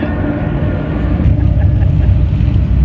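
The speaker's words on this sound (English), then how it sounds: "Ladies and gentlemen, start your engines!" Several heavy off-road race vehicles, one around 10,000 pounds, rumble loudly and steadily after starting up at a dirt racing event, with a dense low engine drone throughout and no speech.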